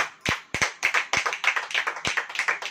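A congregation claps during a Hindi-language church service, sharp close hand claps coming quickly in an uneven rhythm that settles into a steadier pattern, with no voices over them.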